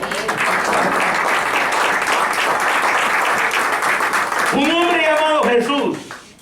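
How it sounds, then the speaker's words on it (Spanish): A church congregation breaks into loud, sustained applause for several seconds; near the end a voice rises over the fading clapping. "dale un aplauso al Señor"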